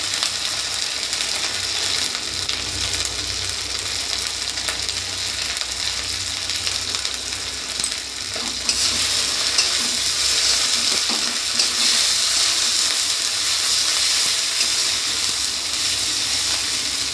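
Ginger paste and turmeric frying in a hot pan for an egg curry, a steady loud hiss and sizzle with occasional scraping stirs, intensifying partway through.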